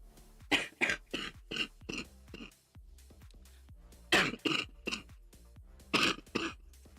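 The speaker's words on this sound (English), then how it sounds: "That cough is from one day of not having that med" Repeated short coughs and throat clearing in a rapid series, close by, with brief pauses between bursts.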